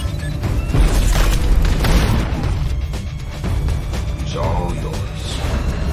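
Heavy, rumbling blasts and booms of tanks and missiles being destroyed roll continuously, loud and close, with crackling debris and a dense low-end roar throughout.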